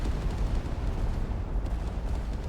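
A meteor explosion in the video game Teardown sounds as a continuous, heavy, rumbling roar of destruction, loud and dense with deep low-end booming throughout and no clear breaks.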